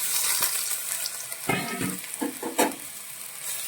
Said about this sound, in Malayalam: അതിലേക്ക് നമ്മൾ അരിഞ്ഞു വെച്ചിരിക്കുന്ന പഴം ഇട്ട് കൊടുക്കാം